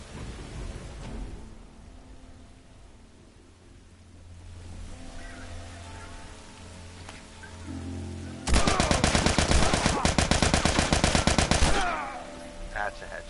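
Gunfire in The Last of Us video game, a loud rapid burst of repeated shots lasting several seconds after quieter ambient game sound.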